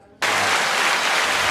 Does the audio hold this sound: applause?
yes